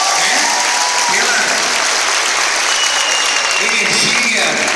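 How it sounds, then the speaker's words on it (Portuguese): A crowd at a salsa congress gives a loud, sustained round of applause for Gerson and Dana, dense clapping filling the room with faint voices and cheers mixed in. "eu peço a vocês, não só para o Gerson, mas também para a Dana, uma salva de palmas"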